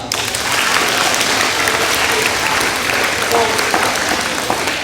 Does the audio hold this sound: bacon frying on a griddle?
no